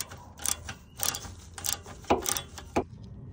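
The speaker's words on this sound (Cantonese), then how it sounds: "呢個扣咧大概搭翻上去之後咧，就可以扭實佢啦" A clamp on a car is tightened back into place, giving a few close, uneven mechanical clicks and ratcheting scrapes in a quiet setting.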